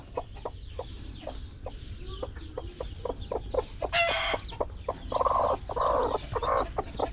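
A hen clucks repeatedly in a steady run of short, close calls, with a couple of louder squawk-like bursts toward the end, all in a quiet farmyard without talk.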